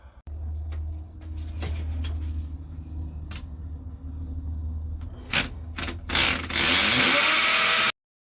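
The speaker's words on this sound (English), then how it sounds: "and drill all the holes out" Power drill boring holes for a toilet flange in a basement concrete floor, a steady low motor hum with clattering mechanical bursts, rising into a loud harsh grinding roar before cutting off.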